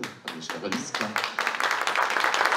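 An audience at a 2023 Christmas carol concert in Zblewo applauds after the singing, a steady patter of many hands that builds and grows denser, with someone speaking over it at the start.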